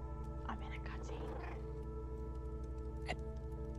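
Faint cat meows and little trills from the game Stray, over a steady low hum, with soft voices talking underneath.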